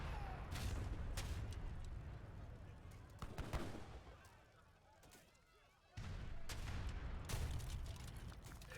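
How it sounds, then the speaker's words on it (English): Heavy cannons in Age of Empires III pound a town centre under siege, with irregular sharp booms and crackling impacts over a busy battle backdrop, and voices may sit underneath. "his original TC in his main base is actually getting sieged down right now"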